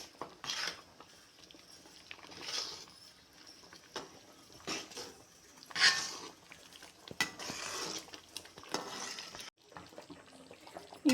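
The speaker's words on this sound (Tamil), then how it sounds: "இப்போ நம்ம நல்லா கிண்டிக்கிட்டே இருக்கணும்" Rice upma made from home-roasted ground rice being stirred in a pan, with intermittent scraping and clinking of the spoon against the pan at moderate loudness, no talk.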